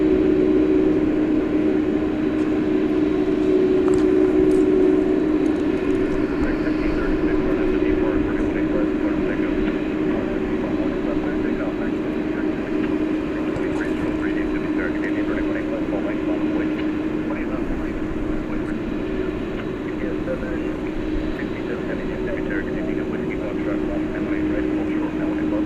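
A Boeing 747-400 at DFW Airport at night, its jet engines a steady, sustained roar that holds for the whole stretch while someone talks over it.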